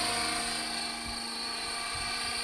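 A helicopter in flight through a large figure-8 manoeuvre gives a steady loud droning rotor and turbine hum that holds even and continuous throughout.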